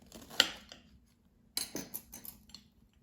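A knife cuts into an air fryer muffin made from boxed yellow cake mix, giving two quick, quiet clinks of metal on a dish with soft scraping between them.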